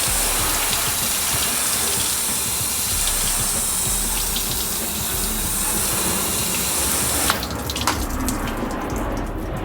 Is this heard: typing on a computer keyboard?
no